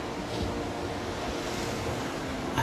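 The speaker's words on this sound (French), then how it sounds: "on entend le ressac." Steady broadband wash of surf on the Mont Saint-Michel bay, heard from a room window at dawn, a continuous far roar with soft swells and some wind on the microphone, no voices.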